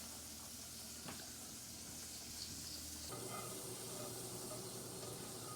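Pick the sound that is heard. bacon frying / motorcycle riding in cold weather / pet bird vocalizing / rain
bacon frying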